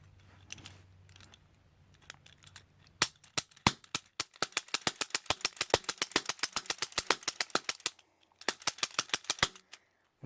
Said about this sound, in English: we're going to see some of the cap firing action